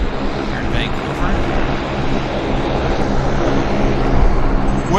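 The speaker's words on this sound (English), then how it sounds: "Nice baritone on the airplane as it climbs majestically into the still Vancouver air." An airplane climbs out after takeoff from Vancouver airport on a breezy morning, its engine a steady broadband roar filling the clip from start to finish, loud and continuous with a slight swell near the end.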